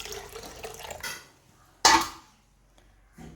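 Water is poured from a vessel onto ground coconut for a Kerala-style fish curry. A short trickling pour is followed by a sharper splash and a faint final dribble, close by, with no voices.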